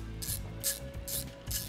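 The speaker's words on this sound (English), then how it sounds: "we're just gonna go ahead and run these screws in" Screws being run into an SPR-style scope mount with a ratcheting driver, giving four bursts of crisp ratchet clicks spaced about every half second over a low mechanical rub.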